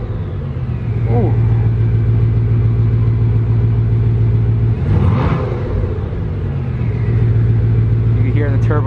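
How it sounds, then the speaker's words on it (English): A Bugatti Veyron idles with a loud, steady low engine rumble throughout, swelling briefly near the middle as the turbo spools, with a voice speaking over the engine. "You can hear the turbo spooling a little bit."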